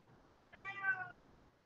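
A cat gives a single short meow at a distance, faint against a quiet room, with no speech.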